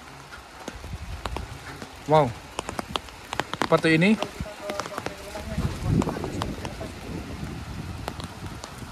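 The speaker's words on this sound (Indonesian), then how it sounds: "ini hujan semakin mengguyur ini. Tuh. Hujan gede nih." Heavy rain pours down on a mountain village beside rice fields and pine forest, a steady hiss of drops hitting surfaces throughout. A person speaks over the rain with brief exclamations.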